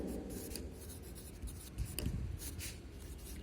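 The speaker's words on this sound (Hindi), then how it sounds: "तो हम यहाँ पर लिखेंगे सूरज" Chalk or marker scratching on a board during a third-grade Hindi lesson, a steady close rubbing scrawl with short stroke accents, heard alone.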